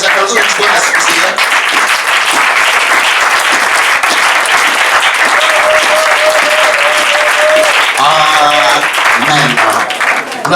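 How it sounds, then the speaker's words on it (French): A church congregation at a Sunday service applauds in praise of Jesus, with loud, sustained, dense clapping that fills the room and runs throughout, voices faintly mixed in. "ça c'est les applaudissements que tu donnes à ce Seigneur"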